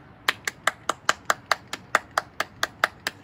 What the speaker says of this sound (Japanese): 改めて感謝の拍手をお送りしたいと思います。